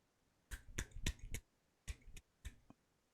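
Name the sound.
attempted one-hand clap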